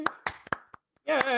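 Four sharp, close hand claps come at an uneven pace, then a voice speaks briefly.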